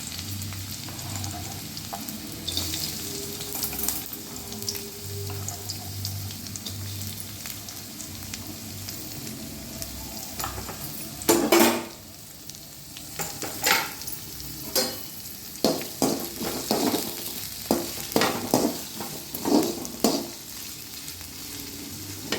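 Sliced onions sizzle steadily in oil in a pan, with intermittent louder bursts of frying and stirring as they hit the hot oil.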